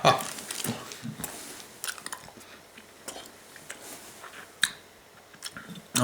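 Someone chewing a giant piece of gum close to the mouth, wet squishy smacks and irregular bites with occasional louder clicks, no speech.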